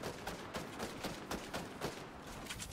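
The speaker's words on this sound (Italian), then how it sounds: "Sento che spari." Fortnite gunfire crackles in fairly faint, irregular bursts of rapid shots, with no talking.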